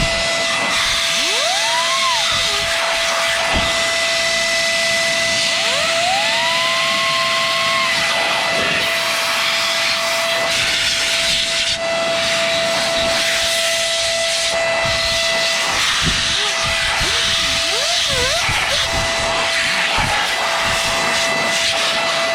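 An XPOWER A-2 electric air duster running on its high setting gives a loud, continuous hissing jet of air with a steady whine, plus brief squeaky tonal sweeps as the airflow shifts.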